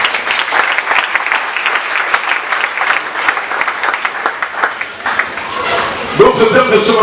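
Church congregation applauding, a loud sustained wash of clapping from many hands, with a voice speaking over it near the end.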